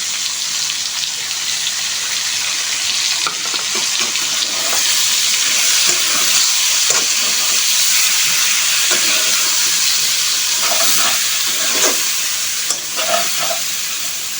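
Ginger and onion paste frying in a pan with spices, giving a loud, continuous sizzle with intermittent scraping and stirring sounds close up, no voices.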